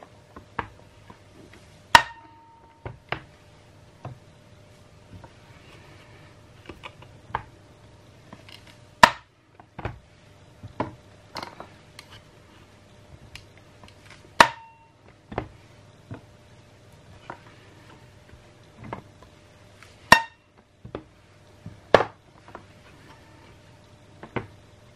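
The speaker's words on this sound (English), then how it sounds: "So I'm going to cut the bar right across like this" A bar of castile soap is cut across into slices, giving sharp isolated ticks and clicks spaced a few seconds apart over a quiet, faintly humming room.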